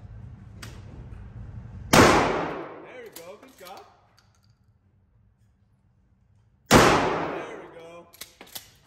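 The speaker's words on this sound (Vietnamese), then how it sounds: "Cái loại súng lớn này nó to quá." Two loud, booming gunshots from a large firearm at a shooting range in the US, several seconds apart, each ringing out with a long echoing decay, with faint background noise in between.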